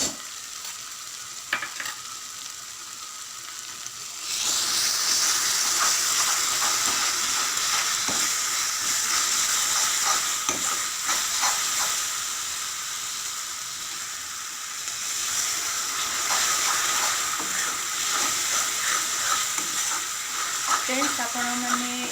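Prawns with curry powder hit a hot pan and burst into a loud, close sizzle after a quiet start. The hiss carries on steadily while a spoon stirs and scrapes through the mixture.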